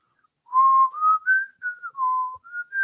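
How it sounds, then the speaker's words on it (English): Someone whistles a short wavering tune alone, several clear sustained notes sliding up and down with brief gaps between them. "you start whistling, don't you?"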